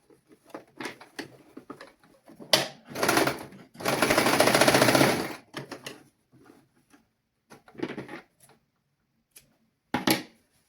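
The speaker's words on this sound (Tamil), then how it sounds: "இந்த லாஸ்டிக் பகுதியிலே நாங்கள் ஸ்டிச்சிங் போட வேணும்" Sewing machine stitching elastic on children's clothing, running in short bursts and one longer steady run of rapid mechanical needle chatter, with pauses and small handling clicks between.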